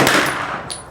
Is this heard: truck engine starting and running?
no